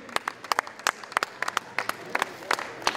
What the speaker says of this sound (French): On l'applaudit, les femmes seront ravies.